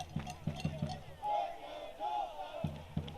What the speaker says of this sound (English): Crowd have really stayed with it tonight.